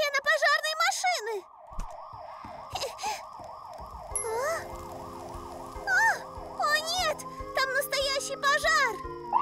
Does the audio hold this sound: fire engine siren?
yes